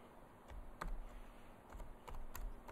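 Keys on a computer keyboard are tapped in short, irregular bursts of clicks, close and quiet over faint room noise.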